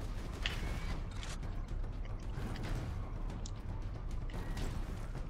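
A heavy door mechanism in the Warhammer 40k Space Marine video game grinds and creaks steadily over a low rumble, with a few ratcheting clicks and no voices.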